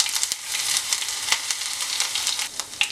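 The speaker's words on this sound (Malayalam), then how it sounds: "ഇനി നമുക്ക് ഇതിനകത്തേക്ക് കടുക് വറുത്തിട്ട് കൊടുക്കാം." Mustard seeds and ginger frying in hot oil for tempering, a steady close sizzle with sharp little crackles and pops scattered throughout, with no voices over it.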